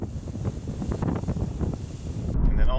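Gusty wind on a beach buffets the microphone with low roaring rumbles, loud and close, rising toward the end.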